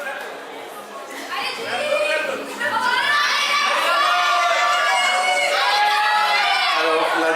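Cheering and whooping rise from a pageant audience at the Miss Réunion Island 2024 finalist announcement, starting as crowd chatter and swelling into sustained loud shouts and clapping that hold to the end.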